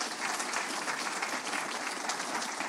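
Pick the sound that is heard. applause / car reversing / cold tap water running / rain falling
applause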